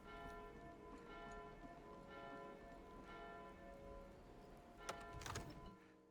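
A church bell rings steadily in the game Skyrim, faint and ongoing, with a louder clatter near the end.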